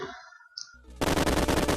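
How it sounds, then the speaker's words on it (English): Explosions go off in Kirby Super Star, a dense rapid crackling barrage of blasts that kicks in suddenly after a brief high chime and a couple of soft pops, loud and continuous to the end. "Explosions!"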